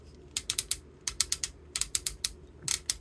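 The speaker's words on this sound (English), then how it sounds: "the ratchet that's been put in his torso" The ratchet joint in the torso of a Transformers Studio Series Mixmaster toy clicks in quick clusters of three or four sharp ticks, close and crisp, repeated several times with short pauses between them.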